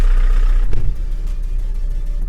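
A 2.5-ton roll-off garbage truck's diesel engine runs with a steady low rumble, loud and close, with a brief surge near the start before it settles into an even idle.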